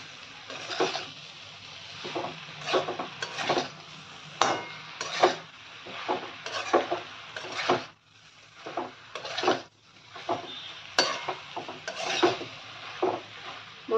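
Turmeric and other spices sautéing in a pan, rhythmic scraping and rubbing strokes of a spoon pushing the masala around over a faint sizzle, close and steady with brief pauses.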